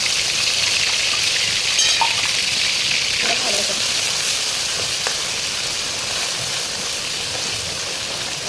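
Ginger frying in oil in a pan over low gas, made for homemade Jain Schezwan chutney: a steady, soft sizzle holds throughout with faint crackles, heard near and alone without talk.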